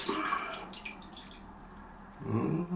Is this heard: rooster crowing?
no